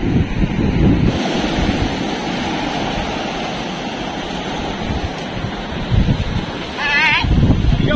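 Sea waves break and wash along the shore in a loud, continuous roar, mixed with wind buffeting the microphone and a faint bleat-like call near the end.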